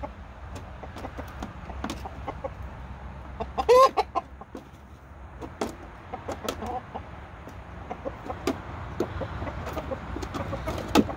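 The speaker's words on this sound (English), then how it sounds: "that's a fine bird right there" Chickens clucking in a backyard flock, with repeated short clucks and soft calls scattered throughout, one louder squawk partway through, over a steady outdoor background.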